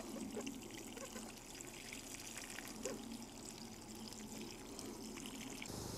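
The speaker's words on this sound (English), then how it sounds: "So we're going to give it a water." Water trickling and pouring from a watering can into a hanging garden container planted with Nicotiana, a faint steady splashing and dribbling soak heard alone.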